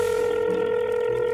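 A mobile phone call tone sounds during a roleplay video game: one steady, unbroken electronic tone that holds evenly and fairly loud for over a second, with no other sounds.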